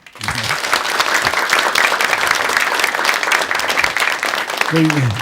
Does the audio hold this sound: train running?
no